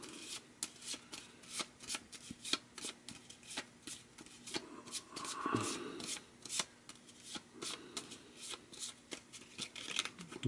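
Cards being shuffled by hand for a board game, leader cards mixed in a steady run of crisp riffling and flicking strokes, close and fairly quiet, with no voices.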